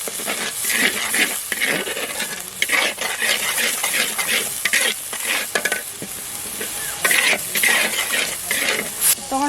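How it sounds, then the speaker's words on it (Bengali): Spice paste with turmeric and salt stirred and fried in a pan before taro leaves go in, a loud close sizzle broken by frequent rhythmic spatula scrapes and clinks against the pan. "তোমার মশলাটা দেখো কত সুন্দর কষানো হয়ে গেছে"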